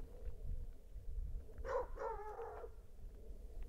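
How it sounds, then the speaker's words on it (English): A neighbour's dog on a rural Canadian property barks in one short burst, two or three yelps fairly near against a steady low outdoor rumble. "The flapping got the neighbor's dog barking."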